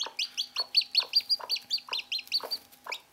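Newly hatched chicks and a hen in a garden run: a rapid, rhythmic series of high cheeping peeps and soft clucks, about a dozen calls in three seconds, close and clear without any talk.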